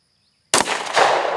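A single sharp, loud pistol shot cracks out of silence at an indoor shooting range, comparing a Sig Sauer against a Glock, followed by a lingering reverberant tail.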